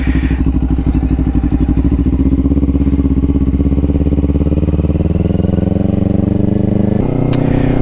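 A Kawasaki Ninja 500 motorcycle engine pulls away and rises steadily in pitch under load, a loud, close, continuous drone with a short gear-change dip near the end.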